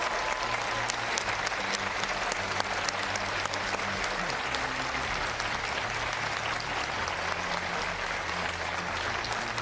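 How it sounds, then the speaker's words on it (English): A packed college auditorium crowd before a governor's debate keeps up a loud, dense and continuous round of applause from start to finish, with a faint crowd murmur underneath. "Give yourselves another big round of applause."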